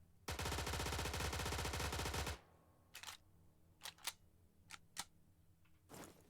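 A BAR rifle fires in a video game, one loud rapid burst of about two seconds followed by sparse clicks and handling clacks of the weapon, close and clear, with no speech.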